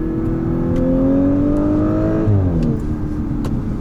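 Audi S4 TFSI quattro engine revving hard under acceleration on a night drive, a loud rising harmonic whine that climbs steadily then drops at a gearshift, with continuous road and wind roar throughout.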